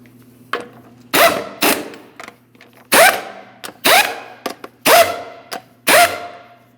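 Lug nuts on a Chrysler 300 front wheel run down with a ratcheting tool, loud close bursts of clicking and whirring repeated about seven times in an uneven rhythm, with short gaps between and no talking.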